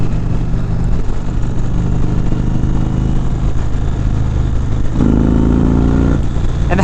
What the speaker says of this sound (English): I think this exhaust sounds nicer stock